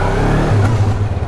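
Motorcycle engine revs up briefly and loudly nearby, a short rising mechanical roar.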